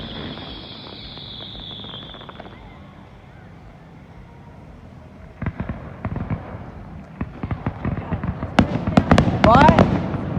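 A fireworks grand finale with sharp explosive bursts that start sparse and grow into a dense, louder barrage toward the end, with crackling and whistling streaks and a steady insect-like hiss underneath.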